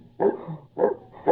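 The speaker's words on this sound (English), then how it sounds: "Oh, the dog." A dog found alive aboard a storm-wrecked ship in a Robinson Crusoe adventure barks three times in short, evenly spaced bursts, close and fairly loud, with quiet gaps between.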